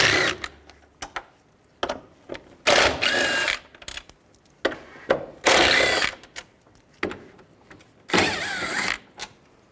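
A ratchet with a T30 socket removes bolts on a 1998-2010 Volkswagen Beetle during A/C condenser work, heard as short, loud bursts of quick clicking separated by brief pauses.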